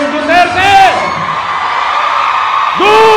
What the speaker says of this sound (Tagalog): Tingnan natin kung malakas ang sigaw niyong Duterte!